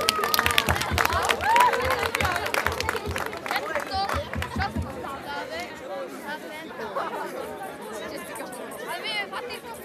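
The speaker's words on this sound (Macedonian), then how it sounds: "Иде голем аплауз." A crowd at a village carnival in Kuratica gives a burst of clapping that fades after a few seconds into lively chatter and scattered voices, with people talking throughout.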